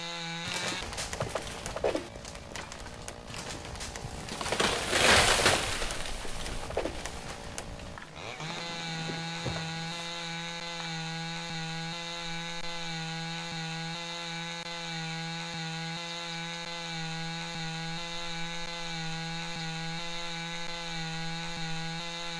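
A chainsaw cuts felled tree trunks to firewood length, starting with rough bursts of cutting and revving, then settling into a long steady idle drone, close and loud with no talking.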